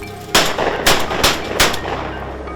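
Shotguns fire during a timber duck hunt, four loud close blasts about half a second apart echoing through the woods, over a low steady background with no talk.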